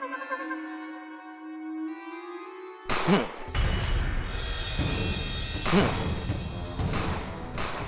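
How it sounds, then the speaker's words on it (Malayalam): A held musical tone cuts off, then several loud, sharp cartoon gunshot bangs ring out at irregular intervals over a noisy background. "ഇത് വെടിയുണ്ടയുടെ ശബ്ദമാണ്."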